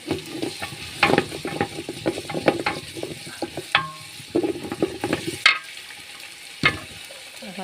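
Ginger and garlic frying in a pan for Eid cooking, a steady close sizzle broken by frequent scraping and clattering stirs, busy and fairly loud throughout with no talk.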